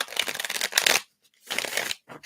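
Tarot cards are shuffled by hand in two quick, crisp riffling bursts separated by a short pause, close up and with no talking.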